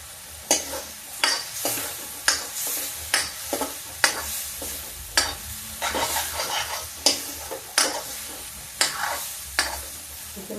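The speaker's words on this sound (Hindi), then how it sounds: "इस मसाले को हम भूनते रहेंगे।" Masala roasting with fresh curry leaves in a pan for Banarasi chana dal with pumpkin, a soft constant sizzle broken by regular, sharp scraping strokes of a spoon stirring about once a second, close by.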